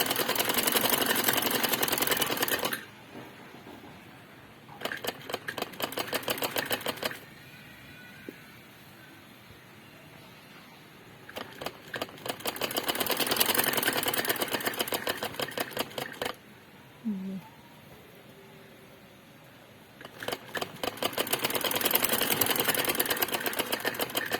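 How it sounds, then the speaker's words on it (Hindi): A sewing machine stitches two layers of fabric for a belted shalwar, running in three loud mechanical bursts of rapid rhythmic clatter separated by quieter pauses. "तकरीबन आधा इंच कपड़ा छोड़ के सिलाई लगानी है"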